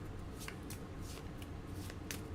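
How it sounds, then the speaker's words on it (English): Monster cards from a Scooby Doo board game being shuffled, a quiet steady riffling with soft repeated flicks over a low background hum. "we're going to shuffle up the monster card"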